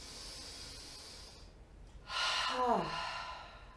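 Deep yoga breath, a quiet stretch of low hiss followed by a strong, audible exhale or inhale rushing in close to the mic, slightly nasal, with no talk over it.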